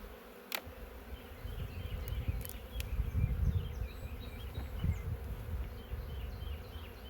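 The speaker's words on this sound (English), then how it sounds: "These bees here are a little feisty." Honeybees buzz steadily around an open hive during an inspection, a low droning hum with a few sharp clicks and knocks, fairly quiet and without speech.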